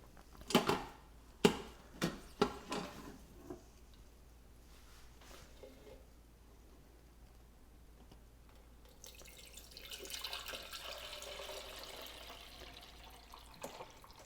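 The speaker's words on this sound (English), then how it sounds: "I'm going to pour it into a measuring cup or two and let the fat rise to the surface" Cooking liquid from Instant Pot Mexican pulled pork is poured into a measuring cup: a few scattered drips and clinks, then a faint, steady stream of liquid pouring for several seconds, with no talking.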